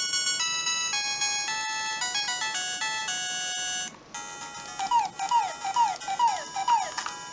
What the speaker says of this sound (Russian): Давайте запустим, ну, например, вот кунг-фу. Сыграем давайте на NES.